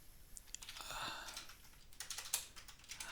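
Fingers tap out a text prompt on a computer keyboard in quick, uneven bursts of soft clicks, close and fairly quiet, with no talking.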